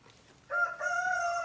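A rooster crows loudly and close by on a farm with goats and ducks, a long harmonic call that breaks briefly and resumes, with faint clucking and low background noise before it.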